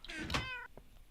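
A cat in the Minecraft video game gives a single clear, drawn-out meow, close and on its own, ending with a soft thunk.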